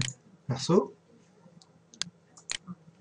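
Two crisp computer mouse clicks ring out close and isolated, roughly half a second apart, following a short burst of quiet speech at the start.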